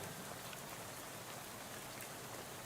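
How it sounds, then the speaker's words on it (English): Rain spatters on a bus window in the video game Shadows Over Loathing, a steady dense hiss of drops that continues unbroken throughout. "you're dozing off to the sound of rain spattering on the window beside you"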